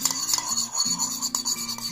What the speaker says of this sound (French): On mélange.